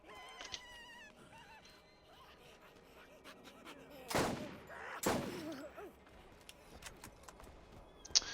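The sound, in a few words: gunfire from a weapon in the video game Borderlands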